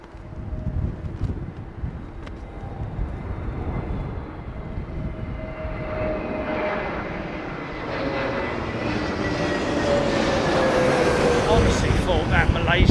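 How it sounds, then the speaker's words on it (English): Malaysian jet airliner powering up its engines at London Heathrow during a windstorm, a rising roar and whine that builds steadily louder over strong wind buffeting the microphone. "Honestly thought that Malaysian jet was going around, man. Did you hear him power it up?"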